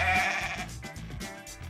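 A goat bleating sound effect, one loud, wavering bleat that fades out over about a second and a half, heard on its own without talk.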